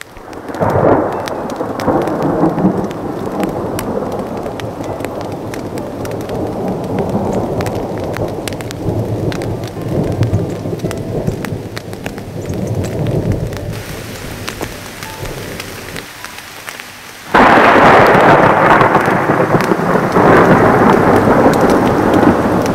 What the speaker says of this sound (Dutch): Donder en bliksem.